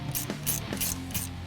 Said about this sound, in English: Sometimes you may have to grab a wrench to kind of just get them started to get them going through.